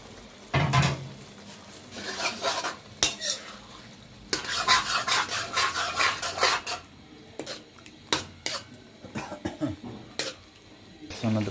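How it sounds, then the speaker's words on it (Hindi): Liver (kaleji) goes into a pan of masala with crushed chilli and a little water and is stirred, with repeated metallic spoon scrapes and clinks against the pan, a cough, and a person talking throughout. "अब हम अपनी कलेजी डालेंगे इसमें।"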